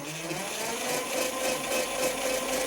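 A lithium battery powered quad bike's electric motor and freshly lubed chain run at half speed, a steady close mechanical whir with a faint whine and no breaks.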